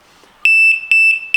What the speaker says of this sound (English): When you get that beep beep acknowledgement on the reset button, then it's completely wiped